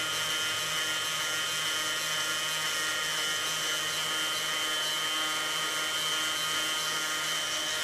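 A rotary grinder works EVA foam for a Neutrona wand prop, giving a steady high-pitched whine with a buzzing edge that runs unbroken and close for about eight seconds.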